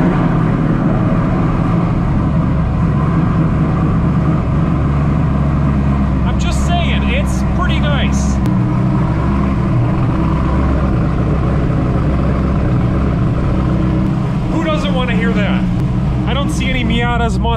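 A cammed Corvette engine idles loud and rough with a deep, shaking rumble, heard close from inside the car while people talk over it.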